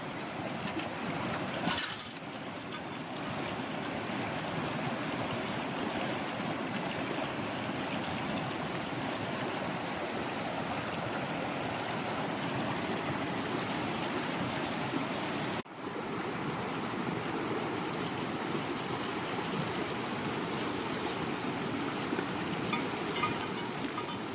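Steady running water from a stream in British Columbia, where gold is being panned, with a continuous rushing wash throughout, a brief louder splash near the start and another short break about two-thirds through.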